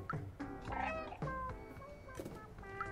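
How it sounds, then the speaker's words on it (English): The cat in the game Stray gives several clear meows in quick succession, some drawn out and wavering, up close and alone. "Oh, it's the cat."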